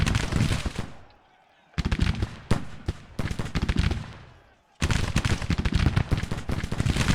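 Six-pounder cannons firing in the Civil War strategy game Grand Tactician, heard as dense bursts of booming shots that stop abruptly, pause, then resume loud and close.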